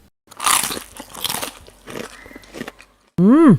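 Crisp crunchy bites of a fried tempe snack, several loud crunches and chewing close to the microphone, followed by a short sung or exclaimed vocal note at the end.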